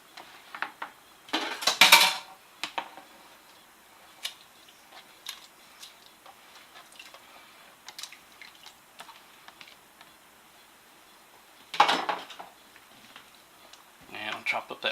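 A utensil taps and scrapes against a pan while beef in thick gravy is chopped up, giving scattered light metallic clicks with a couple of louder clatters and a soft background.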